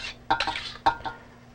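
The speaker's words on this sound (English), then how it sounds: "stir fry them a little bit" Mangoes stir-fried in a pan, heard as a few quick metallic clinks and scrapes of a utensil against the pan in two short bursts, close and fairly quiet.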